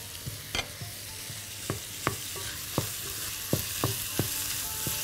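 Garlic and meat fry in a pan with a steady soft sizzle, punctuated by scattered sharp clinks and scrapes of stirring at an irregular pace, close and fairly quiet with no talking.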